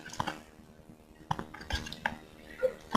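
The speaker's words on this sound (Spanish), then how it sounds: "Así vas a mezclar y mezclar y mezclar y mezclar hasta que se haga algo así" Slime made of glue, water and colouring is stirred in a container, producing sparse, close clinks and scrapes of a utensil against the sides at an uneven rhythm, with quiet gaps between.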